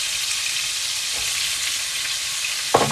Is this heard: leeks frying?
yes